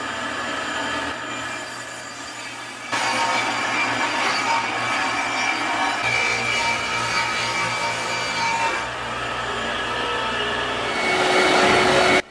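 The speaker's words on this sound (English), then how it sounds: "Once I'm on the table saw, I trim all my pieces to width." A table saw rips wood pieces to width, giving a steady, loud whine and rushing hum that swells as each cut starts and settles between passes, near and alone with no voices.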